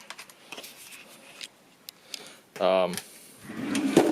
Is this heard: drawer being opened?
yes